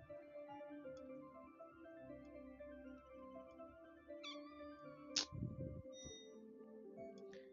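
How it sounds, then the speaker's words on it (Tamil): A cat meows in the mobile game Cats Are Liquid: A Better Place, a few short close mews rising over soft looping game music, with one louder plaintive cry midway. "ஐயோ பூனை அழுகுது."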